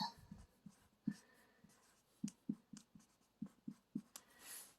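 Marker or chalk writing on a board while working an exponential function problem: a series of quick, distinct taps and short strokes, fairly close, with pauses between them and no talk.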